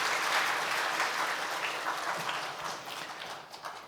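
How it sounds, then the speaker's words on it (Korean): A church congregation applauds at an Easter Sunday worship service, a dense, steady wash of many hands clapping close and loud throughout, easing slightly toward the end. "우리 박수 한번 합시다"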